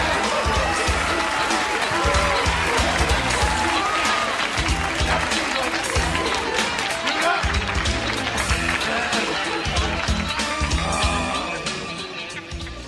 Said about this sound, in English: So please, give a big round of applause to Mr. Roland Big.